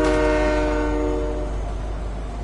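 A train horn sounds in a Fortnite match, loud and sustained with a strong tonal chord that fades slowly over a couple of seconds, alone with no talk.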